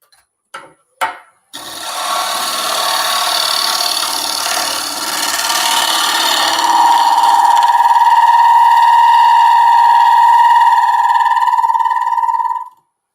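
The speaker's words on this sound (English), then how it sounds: "we're going to go ahead and start sanding" A power sander grinds against wood after a few brief knocks, a steady loud rasping whine that rises into a sustained high-pitched tone before cutting off.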